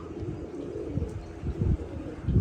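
Racing pigeons cooing in a low, throaty murmur, with soft repeated coos rising and falling over steady background noise and growing a little louder near the end.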